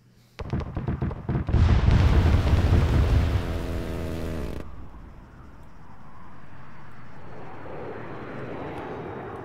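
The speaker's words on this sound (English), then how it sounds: "You should see the jet soon" A jet aircraft in Arma roars in with a loud rising rush, rapid crackling gunfire layered in, then cuts off abruptly into a distant, fading engine drone.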